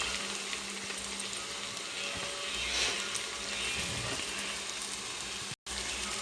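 Chopped carrot, beetroot, potato and beans frying in a pan for vegetable rice, a steady loud sizzle close by with no talking.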